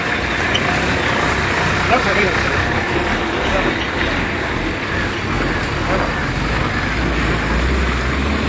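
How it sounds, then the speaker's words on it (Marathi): A truck on a potholed, waterlogged municipal road gives a steady, broad engine and road rumble that runs the whole time, with voices talking over it. "माझ्या नशिबी ट्रक आहेत काल पण एक ट्रक होता आज पण ट्रक आहे"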